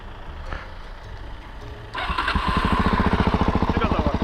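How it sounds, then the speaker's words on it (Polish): A motorcycle engine with a modified exhaust cranks and fires up, then settles into a loud, rapid, steady putter up close after a few seconds of quiet background. "odpali pan motor"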